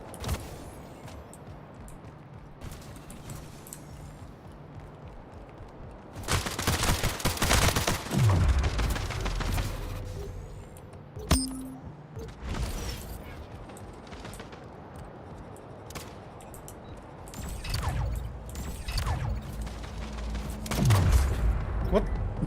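Gunfire from the online shooter video game Splitgate, bursts of rapid shots and booms in several clusters, loud and close, with players talking intermittently in between.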